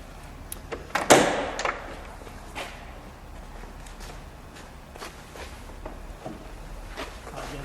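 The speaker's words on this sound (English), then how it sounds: "And then the door latch there." A sharp metallic click and clunk of the door latch on a 1978 Chevrolet Corvette 25th Anniversary Pace Car, loud and close, followed by a few faint knocks and shuffles in a quiet space.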